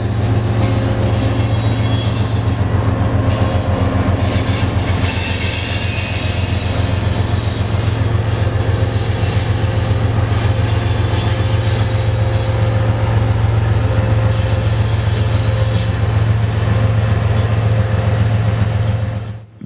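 A freight train rumbles steadily through the Galesburg rail yard, a loud sustained low drone of locomotives and cars with wheel squeal and clatter over switches, fading off at the very end.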